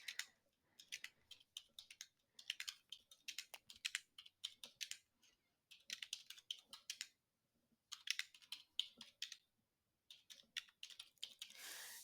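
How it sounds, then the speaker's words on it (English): Quiet keystrokes on a computer keyboard as numbers are typed into a data table, coming in short bursts of rapid clicks separated by brief pauses, close and fairly soft with no talking. "I'm going to type in these data points"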